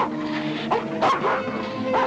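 A dog from an old adventure film barks and whimpers in short yips and whines, fairly close, with several bursts spread over about two seconds and no talk.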